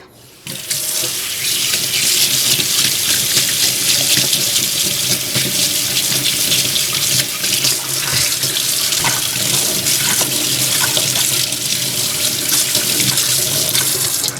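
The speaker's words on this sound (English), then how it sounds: "So I do this and then I'm again running it underwater." Tap water runs hard and steadily into a sink while makeup brushes are rinsed under the stream, a loud, even splashing hiss that starts abruptly and continues without pause, with no voices over it.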